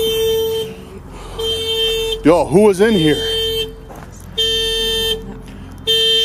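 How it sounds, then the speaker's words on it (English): A car alarm blares in an open field, sounding steady electronic tones that cut in and out in bursts. Someone speaks loudly and excitedly over it, close to the microphone. "Why is my car alarm going off?"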